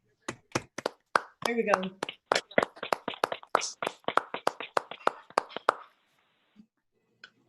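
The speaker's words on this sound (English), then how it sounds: "Can we unmute and clap for Frank, please?" Scattered hand clapping from a small group of people at a Flint Township meeting honoring Frank, uneven separate claps rising quickly and tapering off after about six seconds, with a brief spoken remark near the start.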